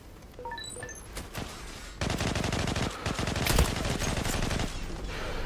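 Gunfire in the online shooter Zula, rapid automatic bursts and repeated shots, sparser at first and then dense and loud through most of the stretch, with no voices.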